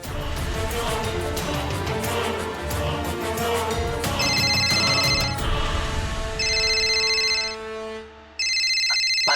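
A telephone ringtone plays in repeated electronic bursts over a busy music-like background, the rings coming in clear cycles with short gaps.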